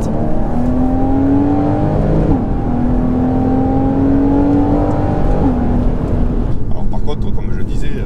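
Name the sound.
Porsche Cayman S 981 engine accelerating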